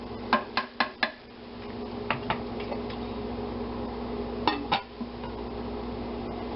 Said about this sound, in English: Take our wooden spoon here, give everything a little bit of a stir.